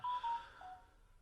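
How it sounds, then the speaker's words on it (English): A mobile phone goes off inside an abandoned WW2 decoy bunker in Hampshire: two short, clear electronic beeps followed by a lower sustained tone, faint and alone with no talking. "Excuse my phone going off."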